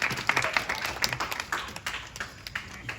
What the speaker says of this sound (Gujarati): અને આપણે તાળી પાડીશું.